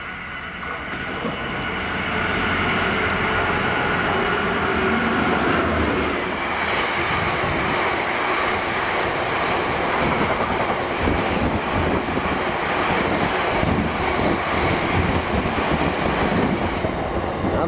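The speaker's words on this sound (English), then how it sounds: "The approaching train here does not stop at this station." Black 5 locomotive 44871 roars through Bridgend station without stopping. The loud rumble swells after a couple of seconds and holds steady with rushing wind and rail clatter.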